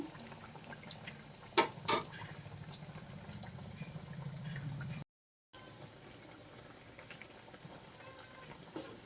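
Vada fries in hot oil after being flipped, giving a quiet, continuous bubbling sizzle with a couple of brief metallic clinks near the start and a short break midway.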